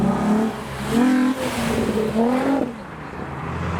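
A JDM sports car engine revs up twice with rising and falling pitch and audible induction noise, loud and close, leaving a Japanese car show, then settles back to a lower drone.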